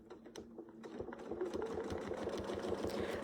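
A sewing machine runs through a few slow stitches, each needle stroke a distinct pulse that gradually quickens into a steadier close whirring rhythm.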